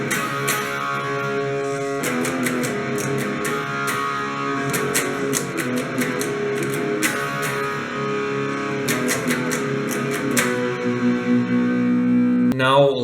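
Electric guitar with echo and distortion effects plays the second part of the intro to a song, with rhythmic picked notes and chords, sustained and close, ending in a wobbling bend.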